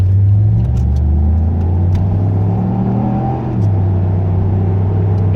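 An old Chevy pickup truck with no exhaust revs loudly close by, its engine rumbling and rising in pitch before easing off briefly and picking up again, with no talking.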